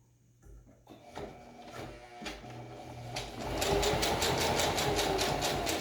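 A sewing machine top stitches a homemade fabric face mask, starting with a few stop-start bursts and then running in a steady, loud, rapid whir that fills the second half with no talking.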